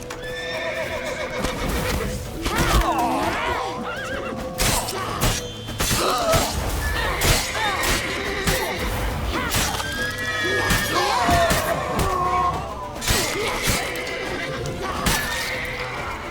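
In The Witcher 3 game, a horse neighs and whinnies repeatedly amid galloping hoof clatter, thuds and shattering impacts. The sound is loud and busy, with shouted voices mixed in.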